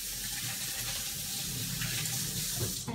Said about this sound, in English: So let me wash my hands really quick.